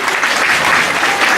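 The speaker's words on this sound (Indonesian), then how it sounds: "tepuk tangan dong" Crowd applause at a live Balinese comedy show in Gianyar, steady dense clapping sustained at full level throughout.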